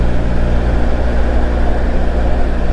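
A motorcycle engine runs loud and steady on a road, with a deep continuous rumble that stays close and constant throughout, no voices over it.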